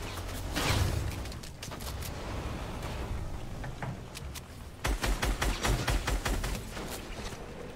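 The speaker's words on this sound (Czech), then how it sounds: "Proč do mě střílí?" Gunfire rattles through an online shooter match with shotguns in the final zone, dense bursts of rapid shots that rise and fall, heaviest in a close, loud volley near the end.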